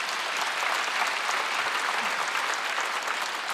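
A church congregation applauds together during a Wednesday worship service, a steady, dense wash of hand claps that carries on evenly from start to finish with no voices over it.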